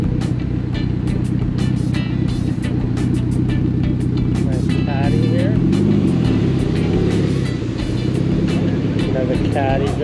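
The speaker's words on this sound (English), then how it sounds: "Caddy driving by" A Cadillac drives past at a Cars & Coffee meet in Novato, California, its engine rumble rising and falling nearby amid constant crowd chatter and other car noise.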